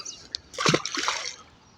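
A brief splash and slosh of water close by as a small channel catfish is released into a river, a soft watery burst that fades into quiet trickling.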